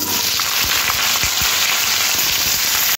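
Cut potato sizzles steadily in hot oil spiced with whole cumin and bay leaf, a loud dense crackle with scattered pops, heard without talking until it cuts off abruptly.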